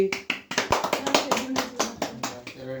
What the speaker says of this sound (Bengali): হাততালি হাততালি।